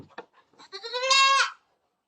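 A goat bleats once, close and loud, a drawn-out wavering call that swells then cuts off, heard during vitamin injections for fattening goats on a farm.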